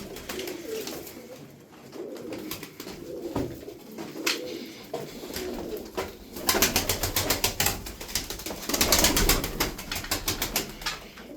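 Tumbler pigeons coo softly at first, then wings flap in rapid bursts amid more cooing and rustling, fairly close and lively.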